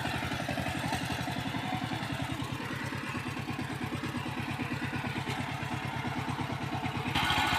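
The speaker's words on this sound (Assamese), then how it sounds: "ট্ৰেক্টৰখন বহুত দিগদাৰ উঠাবলৈ," A tractor engine runs in a field, chugging in a steady rapid rhythm of low thumps with mechanical clatter, close and continuous, swelling slightly at the end.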